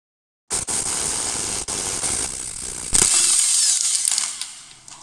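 A power tool runs on the upper nut holding a car's suspension strut mount: a loud, close, steady mechanical whir lasting several seconds that shifts pitch midway, then winds down, with no talking.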